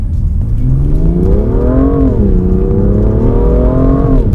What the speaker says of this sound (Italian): il motore tira molto bene fino a 7000 giri